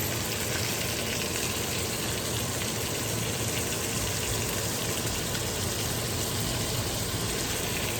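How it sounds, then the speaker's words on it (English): Steak cooking in a home kitchen pan, a loud, dense and unbroken sizzle that holds steady from start to finish with no speech over it. "I'm cooking some steak."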